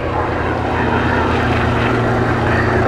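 An Army Air Corps Lynx Mark 7 helicopter at an air show gives a loud, steady turbine and rotor drone, close and constant, with no voices.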